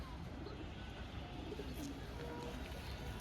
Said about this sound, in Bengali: একটি অ্যাশ কালারের জিরিয়া হোমার নর পায়রা